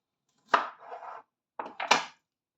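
A knife cuts thick pieces of cauliflower on a board: two close bursts of crisp chopping, a sharp crunch followed by a rough scrape, then a pause and a second pair of quick cuts, with no talk.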